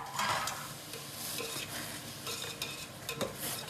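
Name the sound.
tomatoes being stirred and sautéed in a pan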